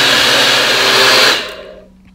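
A strong, loud whir from an electric mixer blending condensed milk for a strawberry flan, running steadily before winding down and stopping near the end.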